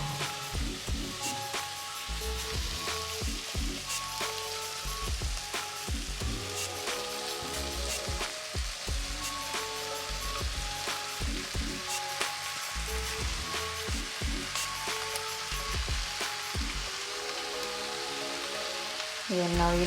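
Green beans stir-frying in a home kitchen pan give a steady, close crackling sizzle with dense popping spatter. It runs continuously for about twenty seconds with faint clatter and no clear talk.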